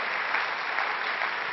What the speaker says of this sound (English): Also an applause for the musicians.